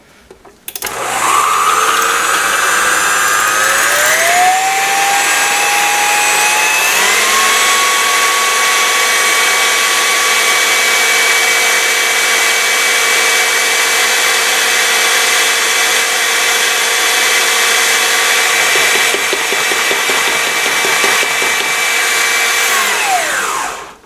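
Blender grinding seasonings for a honey chipotle dressing: a loud, steady, close motor whine that rises in pitch as it speeds up, holds for about twenty seconds, then winds down.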